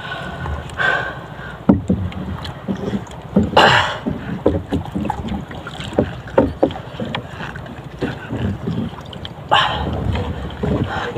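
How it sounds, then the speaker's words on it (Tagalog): Strong wind gusting over a small boat at sea during night spearfishing in the Philippines, a steady blustery rush with bumps and knocks, loud and close throughout. "lumalakas na naman yung hangin sa bagat"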